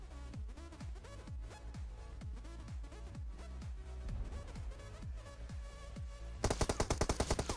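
Automatic weapon fire in PUBG Mobile rattles in a steady rapid rhythm, with a heavier, louder burst of shots at the very end.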